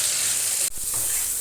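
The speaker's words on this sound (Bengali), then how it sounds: "হাই ফ্লেমে পটলটা আমি ভেজে নেব।" Salted pointed gourd pieces fry in mustard oil in a pan over a high flame, giving a loud, continuous sizzle with a brief dip midway.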